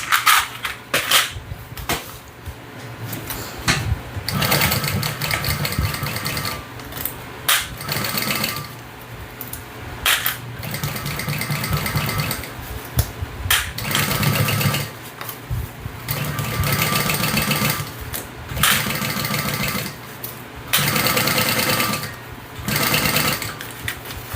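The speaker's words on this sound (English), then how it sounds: "I'm just going to baste all around these raw edges at just 1/8 of an inch seam allowance" A sewing machine bastes around the raw edges of a hip bag at a narrow 1/8 inch seam, running in repeated bursts of stitching with short pauses between, close and fairly loud throughout.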